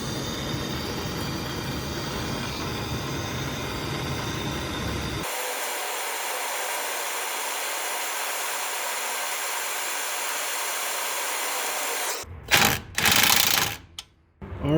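A bench wire wheel spins steadily in a workshop while loose nuts from an '88 Buick Electra Park Avenue are cleaned on it, a continuous harsh whir that shifts in tone midway and ends with a few sharp grinding contacts.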